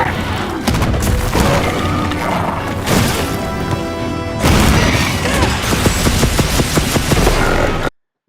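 Village Gunlance attacks in Monster Hunter Wilds, with dense, loud shelling blasts, heavy slashing impacts and crashing thuds overlapping almost without pause before cutting off abruptly at the end.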